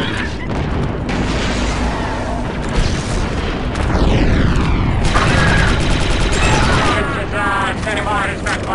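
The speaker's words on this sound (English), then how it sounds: "The charge is set and ready to detonate." A detonated breaching charge in the Star Wars Republic Commando video game gives a loud, dense booming blast, then rumbling debris and battle noise that keep the mix saturated, with voices partly under it.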